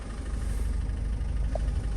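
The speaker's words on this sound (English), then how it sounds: "the engine sounds smooth already" Ford Kuga mk2 engine idling steadily, a smooth low rumble heard close up with an even, continuous drone and no talk over it.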